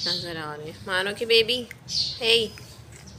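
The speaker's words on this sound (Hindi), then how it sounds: "इसको चिड़िया की आवाज़ आ रही है।" Short bird chirps come through indoors under a voice talking to a kitten, with several brief high calls mixed in with her speech.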